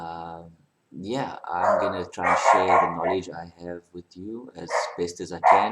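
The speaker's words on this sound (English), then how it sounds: "You have to excuse the dogs barking in the background." Dogs bark intermittently in the background of an informal indoor talk, faint and partly masked beneath a man's continuous close speech.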